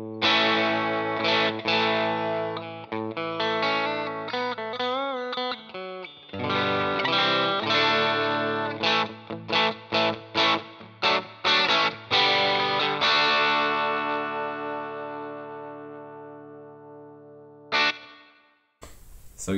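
Electric guitar through a Scheurebe Jazzmaster bridge pickup rings out with bright, snappy chords and picked notes, played with chorus and effects, steady and prominent, ending with a cut-off stop.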